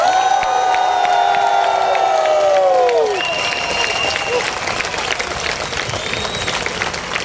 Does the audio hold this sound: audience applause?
yes